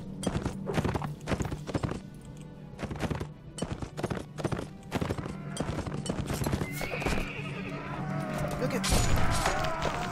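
Horses whinny and hooves clatter in a chaotic battle in Mount & Blade Warband with the Imperial Rome mod, with dense galloping and impacts throughout and a loud neigh rising near the end, with a voice breaking in at times.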